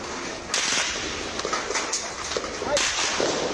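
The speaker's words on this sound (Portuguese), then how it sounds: "Você consegue ouvir, olha só, mais tiros" Gunfire from drug traffickers shooting at police BOPE teams inside the Complexo da Maré, several sharp cracks spread over a few seconds under a continuous noisy background, with voices nearby.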